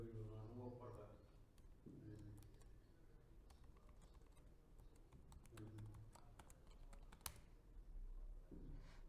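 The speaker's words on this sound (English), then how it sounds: "typing my password" Rapid keyboard typing clicks in short bursts, with a voice speaking over parts of it.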